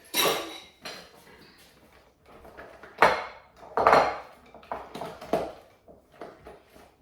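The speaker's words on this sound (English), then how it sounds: "I'll just give it a quick stir around and show you what it looks like." A utensil clinks and scrapes against a bowl while buttercream for a gluten-free chocolate cake is stirred, giving a few uneven clattering bursts separated by short pauses, close and clear.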